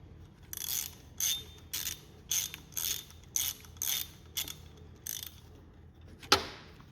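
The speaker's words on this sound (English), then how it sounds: "I'm gonna go ahead and take the brush plate off that so I can." A ratcheting tool removes the 8mm screws from the brush plate of a Minn Kota trolling motor, giving close, crisp bursts of clicking repeated about nine times in a steady rhythm, then a sharp clack, with no talk.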